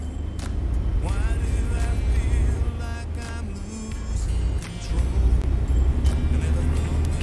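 A car rolls slowly along a road with a low, steady engine rumble throughout, while people talk inside over it.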